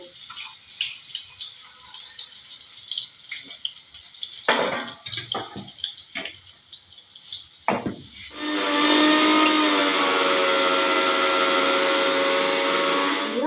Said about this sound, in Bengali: আমি এই মশলাটাকে এবারে আমি একটু মিক্সিতে পেস্ট করে নেব